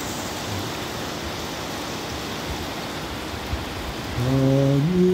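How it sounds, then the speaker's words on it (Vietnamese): Heavy rain falls on Saigon's District 8 on a darkened afternoon, a loud continuous hiss of downpour throughout, with a low tonal drone entering near the end. "Mưa khá là lớn à."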